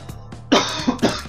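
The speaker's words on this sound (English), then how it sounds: "Cough." A man coughs several times in quick succession while playing a video game, close and loud, with a brief throat-clearing rasp among the bursts.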